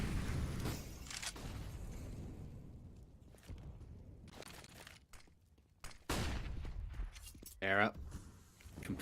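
A flashbang grenade goes off during a Counter-Strike esports match. Gunfire, footsteps and several sharp bangs sound under ongoing casting talk, with a loud burst and a ringing tone near the end.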